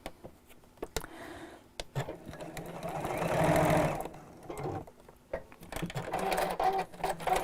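A domestic sewing machine stitches fabric in bursts, its motor whirring steadily and swelling louder at the middle before easing off, with short pauses and a few soft clicks in between.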